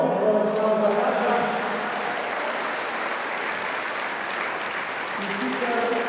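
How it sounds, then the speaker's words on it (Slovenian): A crowd at a Slovenian sports awards ceremony applauds the athlete of the year, a national boxing champion, with sustained clapping from many people that runs the full length, slightly fuller at the start and end. "Velik aplavz za Aljaža."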